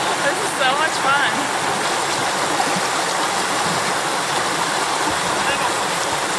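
Loud, steady rush of the Russian River in Alaska, broadband stream water churning continuously close by, with faint voices mixed into the roar.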